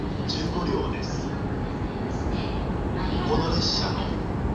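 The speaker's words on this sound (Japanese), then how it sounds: "6番線に普通沼津行きが参ります" A Japan Railways E233 series local train bound for Numazu arriving at a Tokaido Line station platform, a steady low rumble of wheels and motors with faint platform announcement chimes over it.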